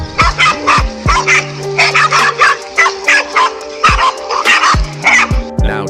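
A pack of five dogs barks furiously at a cobra, sharp overlapping barks and yips in rapid bursts with occasional whimpers, loud and close throughout.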